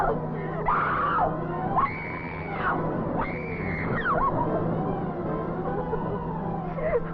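A woman in a 1940s radio drama screams for help inside a moving car. Several loud, drawn-out cries rise and fall over a steady engine hum.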